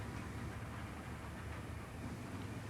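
An Idaho Northern and Pacific freight train with a caboose rolls along the Cascade Branch, a steady, even rumble of wheels and railcars with no talk.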